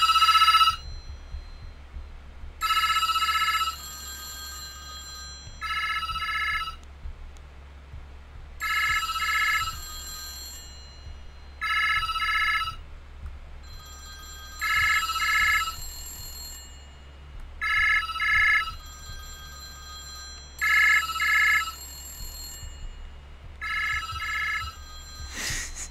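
A telephone rings in repeated double bursts of bright electronic trilling, evenly spaced with short pauses, loud and close over a low steady hum.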